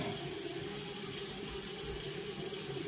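Warm tap water runs steadily into a sink for rinsing out beard products, a constant close splashing flow with no pauses.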